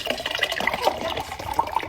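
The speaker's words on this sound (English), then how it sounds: "Filling up some water." Water runs from a tap into a container indoors, a brief, close, steady gurgling pour with bubbly rising tones and no voices.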